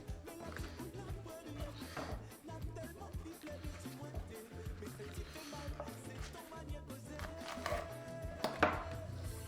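A knife chops the green tops of leeks on a cutting board, keeping up a rapid, uneven tapping that runs throughout. Close and fairly quiet, with a few sharper knocks near the end.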